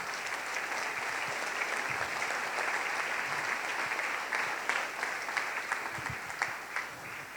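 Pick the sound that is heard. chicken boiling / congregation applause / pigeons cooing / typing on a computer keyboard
congregation applause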